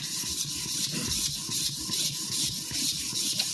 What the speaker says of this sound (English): all I'm doing on this 400 stone right now is basically I'm polishing out the larger scratches that were left post-polishing last time